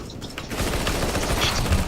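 Gunfire in Counter-Strike: Global Offensive, a dense rattle of rapid shots growing louder after the first half second and continuing to the end, with no clear speech.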